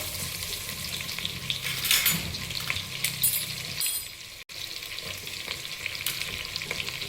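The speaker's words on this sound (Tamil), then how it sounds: "இந்த மிளகா வந்து நல்லா வந்து கொஞ்சம் நல்லா பொரியணும்" Green chillies fry in hot oil for a raw jackfruit biryani, a steady close sizzle with crackling bursts and occasional stirring scrapes, continuous throughout with a brief dropout near the middle.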